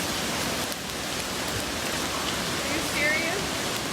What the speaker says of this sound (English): I just don't want the rain in my face.